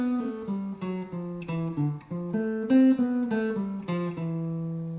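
Clean jazz guitar playing a dominant bebop line over a longer ii–V–I progression, a flowing run of distinct single notes at a moderate tempo, moderately quiet, with no other sound.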